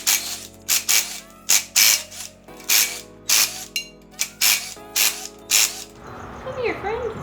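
A ratchet wrench unbolts the stock flywheel from a Nissan VH45 V8 engine, giving about a dozen short, loud bursts of rapid clicking in a steady back-and-forth rhythm before stopping, followed by quieter workshop sounds.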